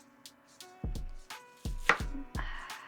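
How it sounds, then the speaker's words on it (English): A knife chopping a large onion into small dice on a cutting board: several sharp, close knife strikes land at an uneven pace with short quiet gaps between them, and no voices. "With our onion today, I'm gonna cut it into pretty small dices."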